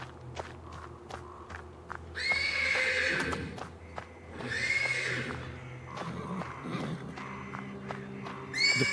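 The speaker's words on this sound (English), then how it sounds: "The persistent neighing of a horse can be heard from the stables." A horse neighs from the stables in three or four loud, drawn-out whinnies spread across the clip, with hoof clops and shuffling steps in between and no voices.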